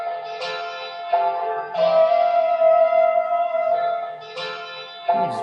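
A chopped music sample for a boom bap beat's outro, with sustained tonal chords and vocal-like phrases, cut into short segments that restart abruptly every second or so, playing alone.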